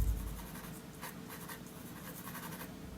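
A black colored pencil scratches on paper while a winter sunset landscape is drawn, with soft, continuous, close strokes and faint rhythmic pulses.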